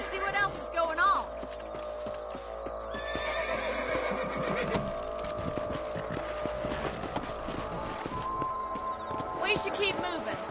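In the video game Red Dead Redemption, a horse whinnies near the start while hooves clip-clop steadily and nearby throughout, with several more neighs and speech mixed in.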